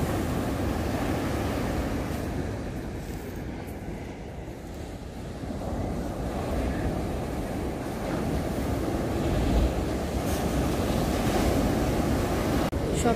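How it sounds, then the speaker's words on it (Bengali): Rough sea surf crashes and rolls continuously along the coast, a loud, steady broadband roar mixed with wind buffeting the microphone, with no talking. "এখান থেকে উত্তাল সমুদ্র দেখা যাচ্ছে"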